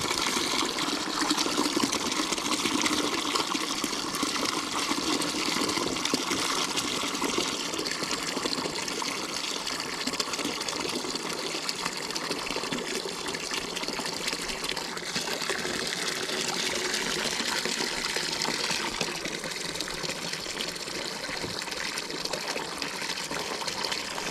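Water pours and splashes steadily during the second rinse of laundry washed by hand at an off-grid site, a continuous nearby gush with no talk.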